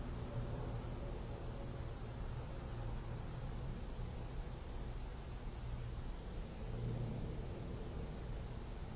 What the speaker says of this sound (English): there's a plane going over, so you can hear the traffic and the air traffic going over